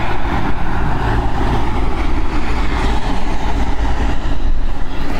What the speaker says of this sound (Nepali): गाडी पनि आउँदैछ